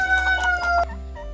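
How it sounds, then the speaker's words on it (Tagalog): Chickens of Dominant CZ parent stock clucking close by in a breeding pen on a Cebu farm, a few quick clucks over a low steady hum. "Mao ni ang iyahang mga manok."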